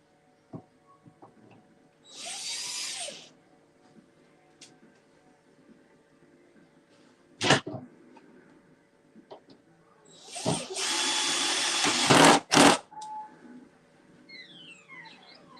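Power drill driving screws into a new cabinet, two bursts of whirring at about two and eleven seconds, the second longer, with sharp knocks and clatters between and faint bird chirps in a quiet room.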